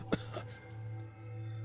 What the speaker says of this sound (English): Violent pain in my throat made me cough.